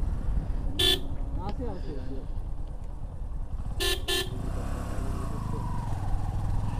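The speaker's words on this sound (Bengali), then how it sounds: "আমি হর্ন দিচ্ছি" Two short bursts of a motorcycle horn honk over steady engine rumble and road noise, the second a quick double toot.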